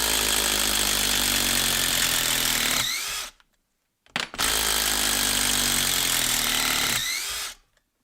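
A DeWalt cordless power tool runs at a loud, steady whine under load, stops for about a second, then runs again just as loud before winding down to silence.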